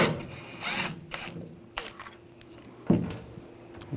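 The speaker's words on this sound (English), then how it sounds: "We're going to take these two screws out, use a T15 socket." A T15 socket works the taillight screws loose on a 2014-2018 GMC Sierra 1500, quiet short bursts of whirring and clicking separated by gaps, fairly close.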